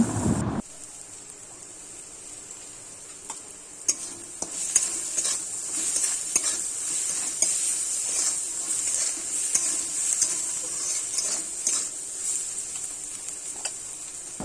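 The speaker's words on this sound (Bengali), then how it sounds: "আবারও একটু নেড়েচেড়ে নেব।" Fish curry cooking in a pan gives a steady bright sizzle, with the light scrape and clink of a spoon stirring it now and then; no voices.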